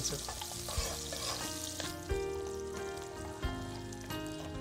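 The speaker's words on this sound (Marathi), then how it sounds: "आता तू बघतोयस की छानसा आपला कांदा भाजतोय" Chopped onion and cumin seeds frying in oil crackle and sizzle nearby while being stirred, with a few soft knocks and steady tonal sounds running underneath.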